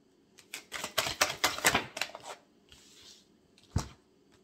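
Tarot cards being shuffled and handled, a burst of quick crisp riffling clicks and flutters close up, then a softer rustle and one sharp tap near the end, with no voice.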